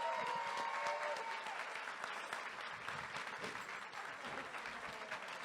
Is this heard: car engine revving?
no